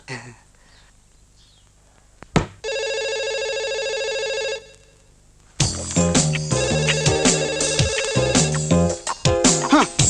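A telephone rings with a steady electronic tone for about two seconds, then louder ringing chimes continue with clatter mixed in.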